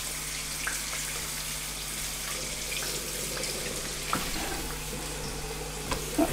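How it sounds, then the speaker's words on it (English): Photographic film developer is poured into a large measuring cylinder, giving a steady liquid trickle over a low background hum with a few faint clinks, close and without talk. "I'm going to pour the developer into this big measuring cylinder"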